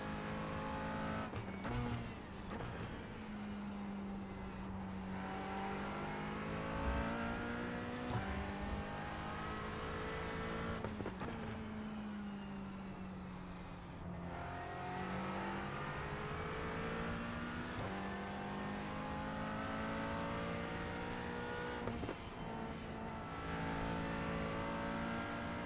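Porsche race cars in the iRacing sim roar steadily at close range, their engines rising and falling through gear changes, with brief shifts and occasional tire noise across the whole stretch.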